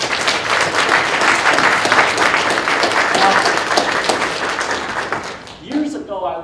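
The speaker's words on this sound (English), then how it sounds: "Can we give a round of applause?" A large audience at a 2018 CEC gathering gives loud, steady applause, a thick roar of clapping that tapers off near the end as a voice begins speaking.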